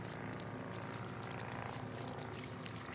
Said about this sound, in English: let's go ahead and rinse it off with the hose real quick